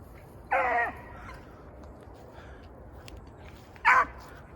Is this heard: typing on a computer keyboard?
no